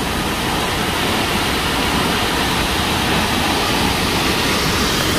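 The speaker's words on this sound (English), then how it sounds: "How about this for a waterfall?" A powerful waterfall roars steadily and close, its dense broadband rush filling every moment without a break, with no voices over the constant thunder of falling water.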